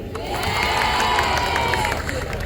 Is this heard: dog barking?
no